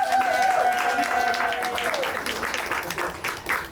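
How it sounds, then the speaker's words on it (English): An audience at a Caribbean Heritage Month celebration breaks into applause, many hands clapping for several seconds and then tapering off, with a brief tone at the start. "Give her another round of applause."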